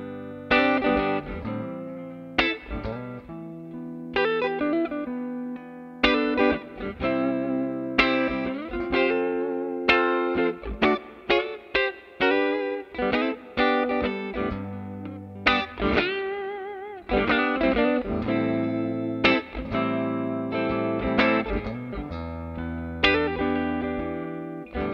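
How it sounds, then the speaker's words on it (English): A Yamaha Revstar humbucker electric guitar is played through effects in single-coil tones: rhythmic strummed chords and choppy accents with distortion and chorus, loud and close, with no voices. "So, it may be a humbucker guitar, but you can kind of get single-coil tones from this guitar."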